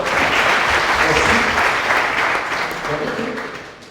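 Loud, sustained clapping from a crowd at a university student association inauguration ceremony, continuous and full through the whole moment before tapering off slightly at the close.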